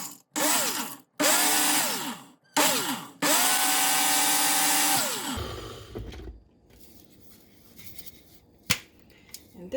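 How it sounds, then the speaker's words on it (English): A blender grinds dehydrated dill and sweet pickles into powder in loud, motor-driven bursts. There are about four runs, each rising in pitch, separated by short pauses, followed by quieter handling noises and a sharp tap. "So I'm going to blend this really quickly."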